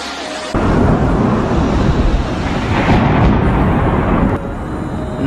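A heavy thunderclap rolls in sharply during a storm in Mecca, Saudi Arabia, then sustains as a loud, broad, rumbling roar for several seconds before easing off, close and unaccompanied by speech.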